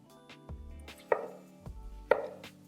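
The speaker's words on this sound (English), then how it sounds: "small medium tomatoes. I'm gonna take the stem out. Then also cut it just roughly." A knife roughly chopping small medium tomatoes on a cutting board, with two sharp thuds about a second apart amid softer cutting and handling sounds, no talking.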